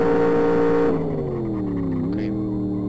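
Simulated BMW M5 E39 engine drifting with the handbrake in the Live for Speed racing game, a loud sustained engine drone that suddenly drops in level and then dips and rises in pitch, without talk.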